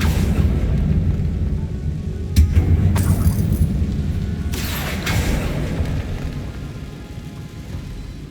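Confringo blasting spell going off in Hogwarts Legacy, a sudden loud boom with rumbling blasts that ring out over a steady low game soundscape, then fade slowly.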